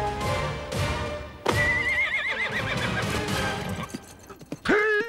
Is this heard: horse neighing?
yes